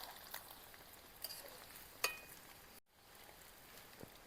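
Paneer fries in oil in a pan, a faint, soft continuous sizzle with a couple of small clicks and a brief dropout partway through.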